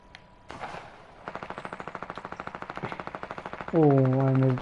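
Rapid automatic gunfire in the Fortnite video game, a steady burst of evenly spaced shots lasting several seconds, ending in a loud sustained tonal in-game sound.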